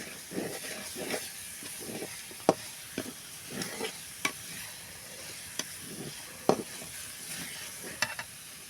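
Masala frying in a pan, stirred with a spatula in repeated scraping strokes over a low hiss, with several sharp clinks against the pan, fairly quiet and close, no one talking.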